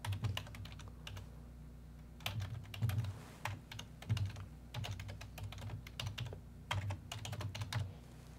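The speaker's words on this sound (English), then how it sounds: "I can just type a note in here" Fingers type a note on a computer keyboard in irregular bursts of quick, light key clicks with short pauses between, close by over a low steady hum, with no talk.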